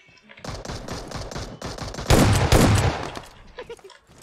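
Gunfire in the PUBG Mobile video game, with a shotgun at hand, arrives as a quick rhythmic string of shots building to a loud, dense burst near the end before fading.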